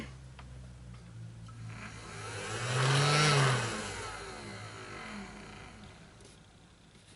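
A Hershey's s'mores maker roars as its fan blows hot air like a leaf blower. A steady whooshing hum swells to a loud peak, then settles back into an even drone, with no talking.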